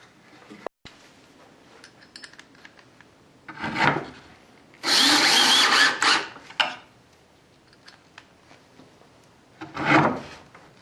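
A power drill drives screws into a wooden band saw circle-cutting jig to fasten a stop to its bottom. Three separate bursts of close, loud buzzing grind are heard, and the middle burst is the longest.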